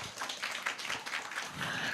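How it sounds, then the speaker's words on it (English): Audience applause at a commemorative event for a Cebuano revolutionary hero, a dense, steady patter of clapping from a crowd, moderately loud and continuous. "Let us give everyone here a big round of applause"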